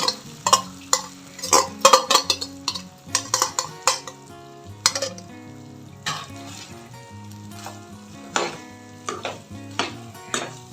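A metal spoon stirs rice with turmeric and salt in a pan, giving repeated scraping strokes and sharp clinks against the pan at an uneven rhythm, close by and without talk.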